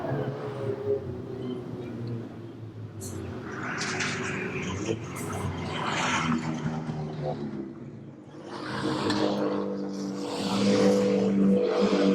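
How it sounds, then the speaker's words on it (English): Stock car engines roar continuously at close range on a race track, swelling and fading as cars pass, with a commentator talking over the noise throughout. "still with the advantage over Kevin Hooper as they go on to the back straight."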